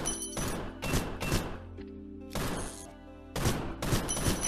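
Revolver gunfire in the Gun Raiders video game: sharp, loud shots in separate bursts with short, quieter gaps between them. No voices are heard.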